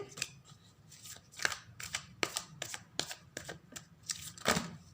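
Tarot cards shuffled by hand, a quick run of crisp papery riffles and snaps in irregular bursts, close and fairly quiet with no talking.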